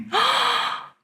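A single sharp, close intake of breath, a gasp as though out of breath, lasting under a second and trailing off.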